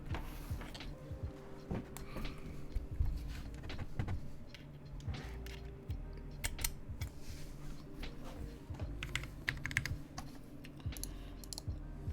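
A typing test on a Kepler keyboard with a POM plate and Zealios v2 switches: a continuous, fairly quiet run of keystrokes with uneven rhythm and no voices.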